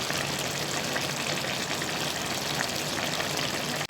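Spinach and potatoes for aloo palak sizzle and fry steadily in a pan, a close, continuous crackling hiss with no voices over it.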